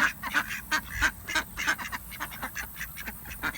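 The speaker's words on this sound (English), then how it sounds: "Ducks." Young farm ducks quack repeatedly in a busy, overlapping rhythm close by, several birds calling at once.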